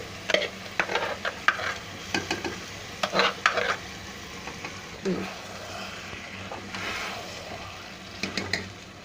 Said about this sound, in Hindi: अब हम इसमें शामिल कर देंगे ये दाल जो हमने उबाल कर रखी हुई थी।